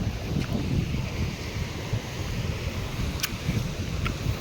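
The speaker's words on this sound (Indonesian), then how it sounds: "suasana deburan ombak ini begitu bertalu-talu, mendayu-dayu, dan menenangkan jiwa kita ya" Steady roar of ocean surf washing against a rocky shore at Jayanti Beach, West Java, mixed with gusty wind buffeting the microphone, continuous with no voices.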